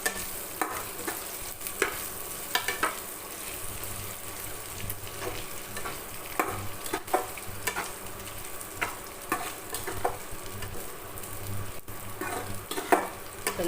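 Spices with chilli powder and salt stir-fried in hot oil for a dried fish and brinjal curry, a steady close sizzle with frequent spoon scrapes and stirring clatter throughout, no talk.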